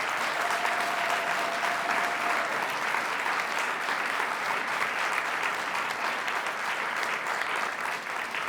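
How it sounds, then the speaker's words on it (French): A political audience at a French New Year's greetings event breaks into sustained, loud applause, dense crowd clapping filling the room evenly throughout without any speech on top. "je vous demande de l'applaudir encore une fois, Gabriel Catala"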